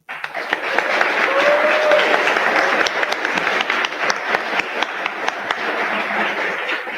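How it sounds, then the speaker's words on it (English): Sustained audience applause for architecture award finalists at an announcement ceremony, a dense wash of many hands clapping steadily for several seconds, with a brief tonal murmur of a voice near the start and individual claps sharpening as it thins slightly. "And just one more round of applause for all of our finalists, please."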